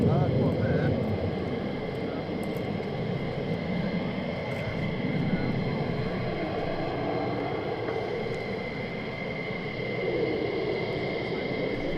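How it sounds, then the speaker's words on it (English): Military jet aircraft, F-35 fighters returning to RAF Lakenheath, give off a broad distant roar that holds steady throughout, with people talking over it. "F-35s look like they're coming back as well by the looks of it"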